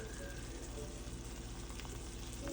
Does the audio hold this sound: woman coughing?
no